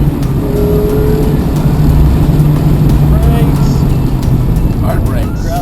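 2016 Mazda MX-5 engine while driving, a loud, close, steady drone with road noise under it, holding an even pitch with faint rises, and no voices.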